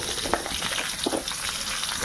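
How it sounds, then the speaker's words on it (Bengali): Vegetables crackle and sizzle in hot oil left from frying fish for a thin fish curry, a steady close hiss with a few sharper pops scattered through. "এবার এই তেলের মধ্যেই আমি এই সবজিটা দিয়ে দেবো।"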